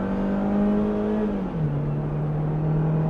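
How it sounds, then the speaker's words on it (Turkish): A Chevrolet Cruze automatic running on LPG pulls hard at full throttle, its engine note holding steady and then dropping at a gear shift before droning on loudly. "Durdum. Dip gaz yaptım."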